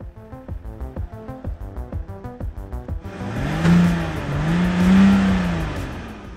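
A BMW 330d diesel car engine rapidly blipped several times, then held in a loud, sustained rev that swells and wavers for a few seconds, heard up close.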